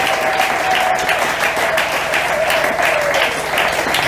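A church congregation applauds for the Lord, steady, dense clapping from a large crowd that stays loud and even throughout, with no let-up.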